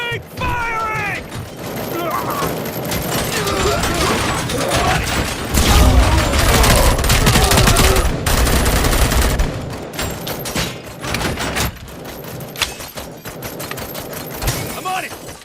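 Sustained gunfire in the RoboCop: Rogue City video game rattles in dense bursts and volleys, loud and close, with shouted voices over it and a heavier, booming stretch midway.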